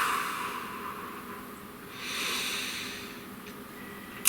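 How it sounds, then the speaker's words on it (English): One slow, soft breath swells and fades against a quiet hiss, followed by a brief sharp click at the end. "Please take a nice deep breath."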